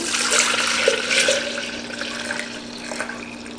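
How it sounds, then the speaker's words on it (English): Liquid pours and splashes steadily into a plain container for homemade yogurt, a close, continuous watery rush that gently tapers off. "So I'm gonna pour this right in."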